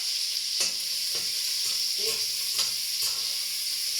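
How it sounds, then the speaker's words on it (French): Bacon bits and garlic sizzle steadily in a hot pan for a spinach sauté, a loud continuous frying hiss with light scraping stirs at regular intervals, close and alone. "Ça grésille bien, je vais baisser,"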